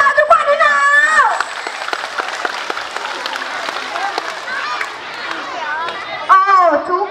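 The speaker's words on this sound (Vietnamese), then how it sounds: "vỗ tay làm to để chào chú Quệ đi nào" Young schoolchildren clap together at a primary school Mid-Autumn festival, a dense spatter of small hands mixed with lively chatter and children's voices throughout, swelling again near the end.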